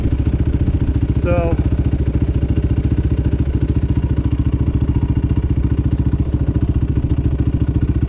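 A motorcycle engine thumps in a steady, fast, loud rhythm at close range throughout a ride, with one brief higher chirp near the start.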